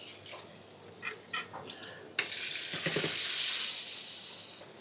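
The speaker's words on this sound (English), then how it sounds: "Basting that steak with some thyme and some garlic." A steak being basted with thyme and garlic in a luxury hotel kitchen, a few soft clicks and spatters giving way to a sudden loud, steady hissing sizzle that carries to the end.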